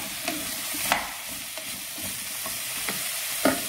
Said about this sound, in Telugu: కొంచెం ఫ్రై చేసుకున్నాము ఒక 5 మినిట్స్ అని అనుకుంటున్నాను